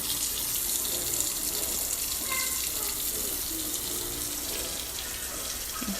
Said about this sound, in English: We're going to add us a little water.